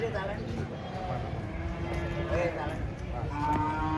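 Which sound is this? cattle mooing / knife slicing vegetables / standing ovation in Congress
cattle mooing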